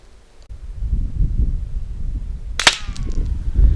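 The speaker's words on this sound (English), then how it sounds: "I'll take a shot and see how it goes" A single sharp rifle shot rings out outdoors, fired at a paper target through a Discoveryopt LHT 3-12x42 SFIR FFP scope, loud and close with a short trailing echo over steady wind and rustling.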